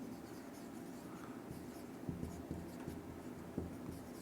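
A pen writes an accounting entry on paper, scratching softly and steadily with a few light taps as strokes begin, close and quiet, with no talking.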